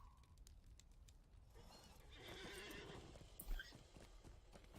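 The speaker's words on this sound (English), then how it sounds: "Let's get our good horse out." A horse in the Lord of the Rings Online game, whinnying and clip-clopping on its hooves through the middle of the clip, moderately loud over a steady game ambience with no talk.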